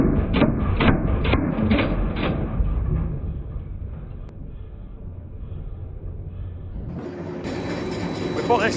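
A log processor is cutting logs with a loud, continuous machine roar and a few rhythmic heavy thumps early on. The noise stays steady throughout, and a harsher, brighter burst comes in near the end.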